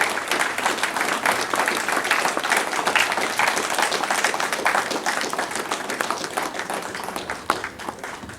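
Sustained applause from an audience at a glamorous couples and singles evening event, dense steady clapping filling the room throughout, with a few sharper individual claps standing out near the end.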